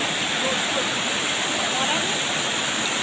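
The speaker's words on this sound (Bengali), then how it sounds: "দেখুন বন্ধুরা কত সুন্দর জল পড়ছে" Water gushing steadily from a pipe at a river, a loud, continuous close splashing roar with no break.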